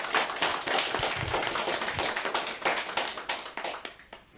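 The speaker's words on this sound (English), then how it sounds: "give a great round of applause to all of the class" Audience applause fills Effin Hall during a 1988 radio recording, a dense, steady patter of many hands clapping that holds for several seconds, then thins into scattered claps toward the end.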